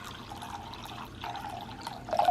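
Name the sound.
filling a small bowl with water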